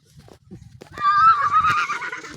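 A horse lets out a loud, close whinny lasting about a second and a half, rising after a few faint soft knocks along a rural path.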